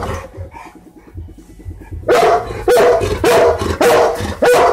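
Bernese mountain dogs bark near a doggy door, quiet shuffling and soft whines first, then a string of loud, deep barks in quick succession, close by.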